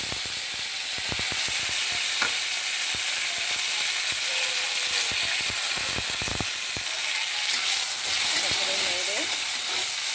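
Dried curry leaves fry in hot oil in a home kitchen, giving a steady close sizzle with scattered crackles and stirring clicks, and a faint voice briefly audible near the end.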